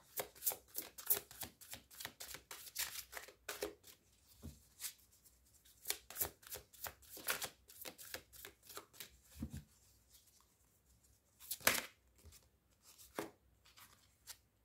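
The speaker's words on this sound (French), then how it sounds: "Et je vais laisser sauter les cartes." Oracle cards are shuffled by hand in a quiet room in rapid, irregular bursts of crisp riffling and slapping, with short pauses between runs, close and fairly soft.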